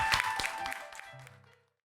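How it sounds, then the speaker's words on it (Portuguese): A short burst of applause from a women's church gathering, several quick claps close by, fading out after about a second and a half. "Uma salva de palmas para vocês."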